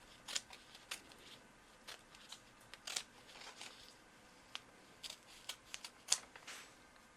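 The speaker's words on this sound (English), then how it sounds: "cut the excess off before putting the iron on" Scissors snip through excess fabric on a sewing table, several short crisp cuts spaced irregularly, faint and close with no talking.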